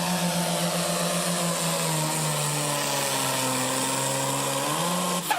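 Pulling tractor engine at a pulling event, idling rough and uneven like rattling metal, then revving briefly at the end; loud and close, with no talk.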